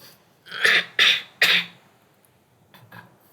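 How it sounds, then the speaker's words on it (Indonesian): Three sharp, close coughs in quick succession, followed by a couple of fainter, softer coughs after a short pause. "sorry kalau gue agak batuk ini ya"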